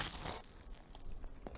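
Crisp crunching bites of a salt-roasted Korean hangwa rice snack, a sharp crackle up front followed by a few smaller crunchy snaps, close and fairly quiet with no talking.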